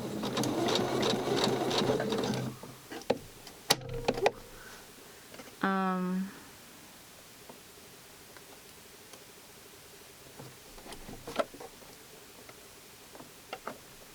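A sewing machine stitches Barbie doll clothes in a U-shaped seam, running steadily for about two seconds, then a few short bursts and clicks, with quieter handling noises after.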